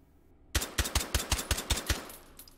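A suppressed Llock pistol fires in the VR shooting game H3VR, about eight quick, evenly spaced muffled shots in a short burst, fairly loud and close, with a brief tail after the last round.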